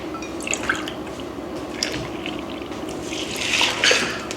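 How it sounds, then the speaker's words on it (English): Whole milk poured from a cup over oats in a bowl, a soft close trickle with small splashy drips across a few seconds, no talking over it. "then I put in a cup of whole milk"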